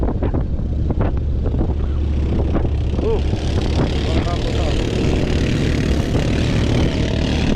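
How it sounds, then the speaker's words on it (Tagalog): Continuous low drone of a boat's Honda-sounding engine with wind rumble, steady and fairly loud, with faint voices now and then. "Parang Honda din yung makina niya. Tunog Honda."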